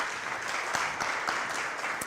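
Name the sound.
applause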